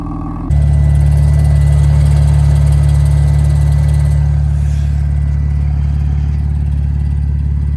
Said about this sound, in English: That rattling noise, I'm not sure if you can hear it in the video, is the wastegates just kind of rattling away.